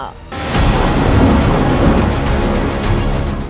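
Heavy monsoon rain in North Karnataka pours in a loud, continuous roar with a deep rumbling underneath, like thunder rolling through a downpour. No voices are heard.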